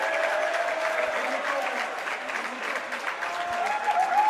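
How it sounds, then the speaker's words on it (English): Greenies fans applaud from the stands at a high school playoff basketball game, Christ School against Charlotte Country Day, a steady crowd clapping that carries on without pause, with faint voices mixed in. "Greenies fans applauding the assistant coaches, helping clean up the scuffle there on the floor."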